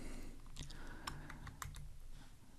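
Typing on a computer keyboard, quiet irregular clicks of keys with a few sharper taps, close and alone without speech.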